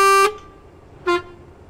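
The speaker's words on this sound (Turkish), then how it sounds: "Yine şöyle bir kornamız var." Mercedes Travego 16 SHD bus horn in Euro Truck Simulator 2 sounds two loud blasts, a longer one then a short one, close and clear with no talking.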